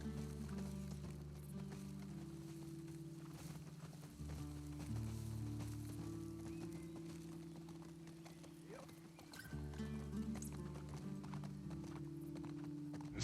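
Horse hooves clip-clopping in the video game The Last of Us Part II, a steady soft walking rhythm of clops under a quiet, low game ambience with a droning musical tone, no speech.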